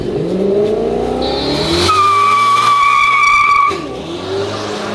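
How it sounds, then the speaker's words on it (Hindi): A BMW makes a hard drag launch with slight tyre spin. The engine revs loudly and climbs through the gears, a brief tyre squeal cuts in, and the car pulls away, all close and loud with no talking. "तो ये था ड्रैग, जिसमें हल्का सा टायर स्पिन हुआ एंड गाड़ी चली गई।"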